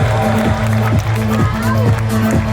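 Applause from an audience at a school ceremony honouring former students selected for government service, dense steady clapping with crowd noise, rhythmic beats cutting through, near and loud.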